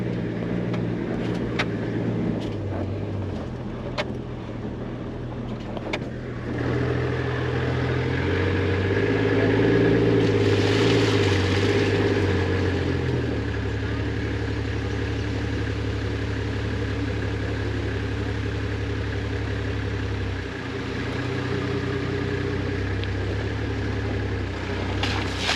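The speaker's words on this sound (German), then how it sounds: "Wir fahren jetzt wieder zurück, rückwärts durch die Matsche" A 4x4 vehicle reversing through mud on a jungle track in Africa, its engine a steady close mid-to-low drone that swells briefly, with no talk over it.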